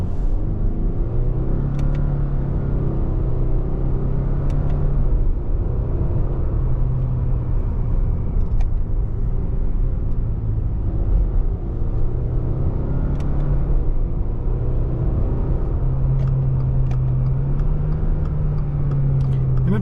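A 2024 Subaru Impreza Sport engine drones inside the cabin, a low steady rumble whose pitch climbs with acceleration then drops and rises again at each gear change, with faint clicks over it.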